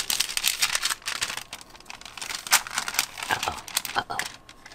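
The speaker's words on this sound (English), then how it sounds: "I shouldn't worry that it wrinkles because I'm going to crumple it anyway" Parchment paper is crumpled by hand, giving continuous crackling and crinkling in irregular bursts close to the microphone, with no talk over it.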